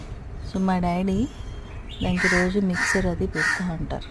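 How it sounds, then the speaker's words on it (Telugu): A crow caws harshly several times at close range in a backyard feeding spot, the calls overlapping and following someone talking. "చూసారా కాకి ఎలా అరుస్తుందో?"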